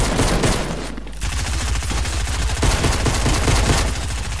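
Gunfire in a shooter video game: a dense, loud burst of rapid shots after a brief pause, close and continuous with no talking over it.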